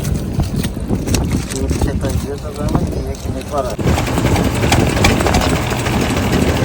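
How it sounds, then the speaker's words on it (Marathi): A fishing boat's engine runs at sea during lobster net fishing, a continuous rumbling drone with wind noise, partly under talk and shifting to a rougher, louder chug midway. "बघा निलेश कोळीची बोट चालू आहे"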